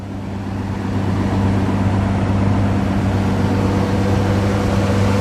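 The engine of a 1982 Ford F100 pickup runs steadily nearby, a constant low humming drone with no voices.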